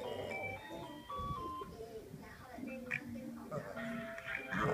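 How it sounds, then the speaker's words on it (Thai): An ice cream truck's tinkling melodic jingle plays on, with clear tonal notes stepping through a tune amid some background noise, moderately close. "ร้องเพลงไอติมบัว"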